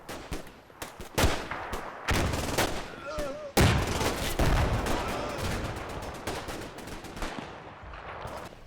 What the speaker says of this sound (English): A rifleman fires a grenade through a ground floor window of the hotel